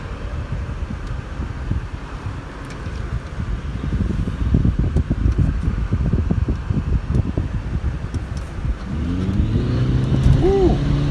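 A 2015 Lincoln MKZ 2.0 hybrid accelerates, a steady engine and drivetrain hum swelling under wind and cabin fan noise, heard from inside the car.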